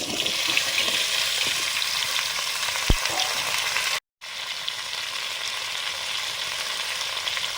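Ash gourd pieces hit hot spiced oil with five-spice tempering in a pan, giving a steady, close sizzle and frying hiss throughout, broken by one short sharp clink and a brief gap.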